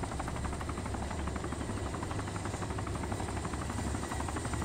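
Constant helicopter rotor thump and engine whine from the survival video game DayZ, a loud steady drone with rapid blade chopping and no voices.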